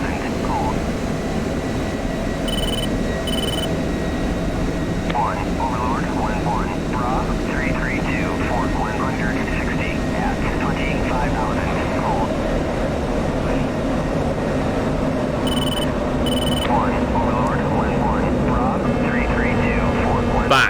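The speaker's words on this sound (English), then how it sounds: "That is how you approach an F-16" An F-16 jet in a DCS combat flight simulation roars steadily throughout, with a loud, continuous engine rumble, short warning tones, and someone talking over it.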